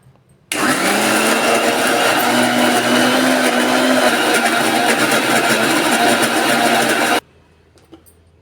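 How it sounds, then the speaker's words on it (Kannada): An electric mixer grinder coarsely grinds tamarind and jaggery chutney with a little water, starting abruptly and whirring loudly and steadily for several seconds before cutting off into near silence. "ಸ್ವಲ್ಪ ನೀರು ಹಾಕ್ಕೊಂಡು ಇದನ್ನು ತರಿಯಾಗಿ ರುಬ್ಕೊಂಡು ಬರೋಣ್ರಿ"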